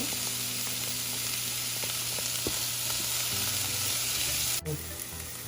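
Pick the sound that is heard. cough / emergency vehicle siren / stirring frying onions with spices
stirring frying onions with spices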